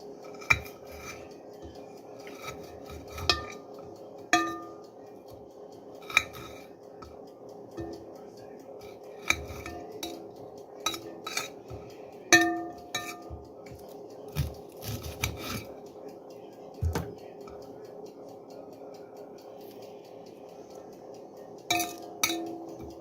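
A knife chops vegetables such as onion, fennel, courgette or tomato into small pieces for a vegetable couscous, giving irregular light clicks and scrapes on a board over a steady low kitchen hum.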